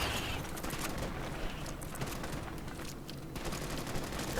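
Dense gunfire fills the Starship Troopers Extermination combat, with shotgun blasts among a continuous, loud barrage of shots and explosions and no pauses.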